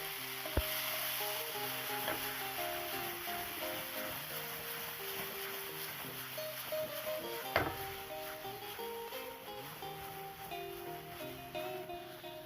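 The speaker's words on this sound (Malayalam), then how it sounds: "സവാള കുറച്ചൊന്ന് വഴന്നു വരുമ്പോഴേക്കും ചെറിയ 2 തക്കാളി കൂടി ഇതിലേക്ക് ചെറുതായി അരിഞ്ഞ് ചേർത്ത്" Chopped tomatoes and onions sautéing in a pan, a soft steady sizzle with occasional clinks and stirring knocks, fairly quiet and close, no talk.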